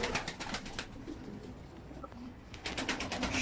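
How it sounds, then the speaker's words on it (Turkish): Young pigeons in a cramped rooftop loft with side partitions give soft, steady cooing and bird calls throughout, fairly close, without talk. "Arkadaşlar Tarık Kaya'nın yavru kuşları, uçurduğu kuşları burada."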